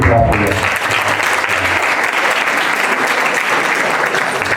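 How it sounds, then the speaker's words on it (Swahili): An audience at a talk breaks into loud, dense applause close by, a steady wash of clapping with a brief voice at the start. "Can you clap for yourself?"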